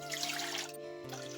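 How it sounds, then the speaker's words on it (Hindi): Water poured from a bowl into a pan to start sugar syrup for rava katli, a steady splashing rush lasting under a second before easing off beneath a low hum. "तो यहाँ पर मैं ले रही हूँ 2 कटोरी पानी।"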